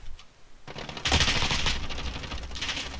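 Video game gunfire bursts out after a quiet start, a rapid crackling volley of shots that carries on for a couple of seconds, loud and close, with no voices over it.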